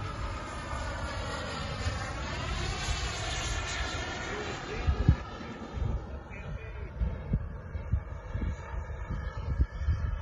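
A small airplane with its gear down flies overhead at a Sundowners airfield. Its engine drones steadily and slides downward in pitch as it passes, with wind buffeting the microphone.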